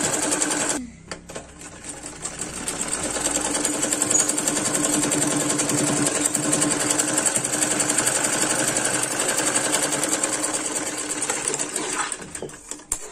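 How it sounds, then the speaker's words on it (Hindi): A sewing machine stitches along a belt with a continuous, rapid, loud mechanical whirring that starts after a short pause, runs steadily close by, and stops near the end. "इसी तरीके से पूरी बेल्ट के ऊपर सिलाई लगा लेंगे"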